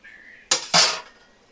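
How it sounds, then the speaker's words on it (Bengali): A metal lid comes off a cooking pot of bottle gourd and prawns with two quick, close clinks, the second ringing briefly before fading, after a faint hum. "দেখো আমি ঢাকাটা দেখো খুলে নিচ্ছি"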